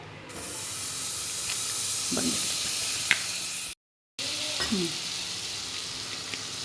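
Amul butter crackles and hisses steadily in a hot pot on a gas stove, close and continuous, with a few light clinks and a short silent gap midway.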